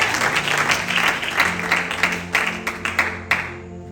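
A church congregation bursts into sustained applause to acclaim Jesus, dense clapping filling the room at steady strength before thinning into a few scattered final claps.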